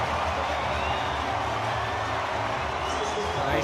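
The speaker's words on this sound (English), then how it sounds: "The crowd's reaction tells you all you need to know." Rugby stadium crowd at a France versus Tonga World Cup match reacting to a missed kick, a broad, steady roar of many voices filling the space, loud and sustained without a break.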